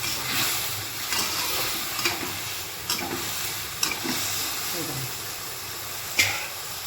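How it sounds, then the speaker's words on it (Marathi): Potatoes sautéing in a pan for a potato bhaji give off a steady close sizzle and hiss, broken by occasional sharp scrapes and taps as the pieces are stirred. "याला बटाटे टाकलेले आहेत, याला परतून घेऊया"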